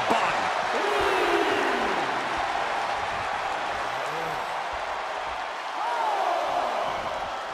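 A dense crowd roars and cheers steadily at a U.S. championship fighting event, a loud, continuous wash of noise that swells again near the end, with a commentator's voice running underneath.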